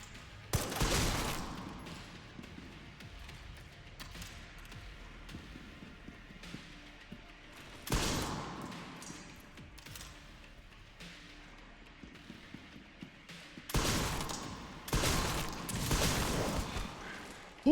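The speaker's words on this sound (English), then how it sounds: "he's actually shooting now" Enemy gunfire in the Resident Evil Requiem video game, several loud, short bursts of shots separated by quieter stretches of game ambience, no talking.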